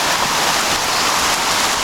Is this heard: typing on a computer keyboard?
no